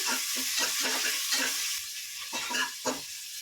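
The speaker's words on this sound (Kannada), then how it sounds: "ಈಗ ಒಂದು ಕಟ್ ಮಾಡಿದ ಆನಿಯನ್ ಹಾಕ್ಕೋತಾ ಇದ್ದೀನಿ ಹಾಕಿ ಗೋಲ್ಡನ್ ಬ್ರೌನ್ ಬರೋವರೆಗೂ ಫ್ರೈ ಮಾಡ್ಕೋಬೇಕು" Chopped onion fries in hot oil toward golden brown for a country chicken biryani, a close sizzle with a few stirring scrapes that ease off toward the end, no voices present.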